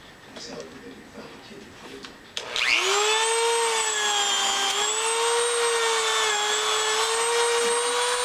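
A Dremel rotary tool spins up abruptly and holds a steady, loud high-pitched whine for several seconds while a buffing wheel is made, following a short stretch of quiet background noise.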